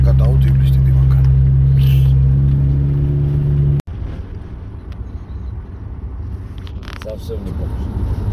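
A large vehicle drives along a snowy road, its deep engine rumble and wind buffeting steady and loud before an abrupt cut. A quieter rumbling drive continues afterward, with a voice talking over it.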